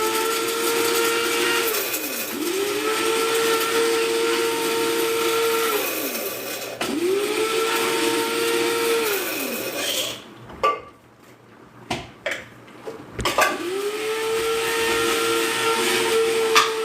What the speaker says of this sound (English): So, I'm going to blend my uziza, the uziza seed.